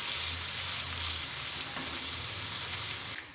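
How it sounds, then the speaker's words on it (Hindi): Ginger garlic paste with chillies sizzles steadily in a hot pan, a continuous close frying hiss with faint crackles and one soft clink near the end. "थोड़ा सा फ्राई करेंगे सारी चीज़ों को।"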